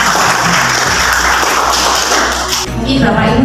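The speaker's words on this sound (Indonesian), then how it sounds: "tepuk tangan untuk kita" An audience at a teachers' session claps together in a burst of applause, mixed with voices talking over it, until the clapping drops off near the end.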